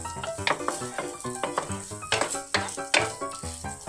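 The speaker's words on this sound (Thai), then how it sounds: "คนๆไปเลยครับ คนไปนะครับ ให้มันสุกให้หมูก็สุกนะครับ" Minced pork being stir-fried in a pan with glass noodles and mixed vegetables: soft sizzling under repeated clinks and scrapes of a utensil against the pan in a quick, uneven rhythm, fairly quiet.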